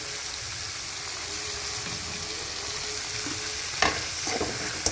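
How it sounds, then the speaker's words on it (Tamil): Tomatoes with salt sautéing in a pan for a country carp fish curry, giving a steady close sizzle with a few scraping stirs near the end. "தக்காளி போட்டு நல்லா வதக்கிடுவோம்"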